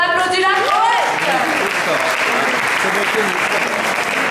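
An audience at a slam poetry contest breaks into steady, loud applause for a poet after the scores are read, with a voice briefly audible at the start before the clapping dominates.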